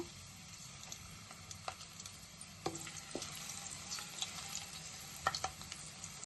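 Five or six crushed garlic cloves fry in about three spoons of hot oil, giving a soft, steady sizzle broken by intermittent stirring clicks and scrapes, fairly faint and with no talking.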